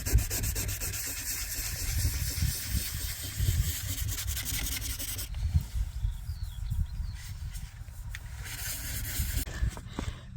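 Hand sanding of a Lada Niva car body panel with 600-grit sandpaper, steady close back-and-forth rasping strokes that continue without pause for about ten seconds, with no talking.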